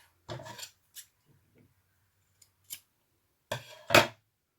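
Scissors cut paper for a junk journal in several short, close snips with quiet gaps between them, ending in two firmer cuts near the end.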